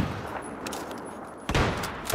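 A pistol firing on full auto in the video game Battlefield 4 lets off short, fairly faint bursts of shots over steady background noise.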